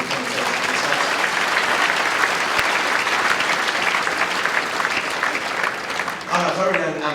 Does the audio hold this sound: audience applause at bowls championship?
yes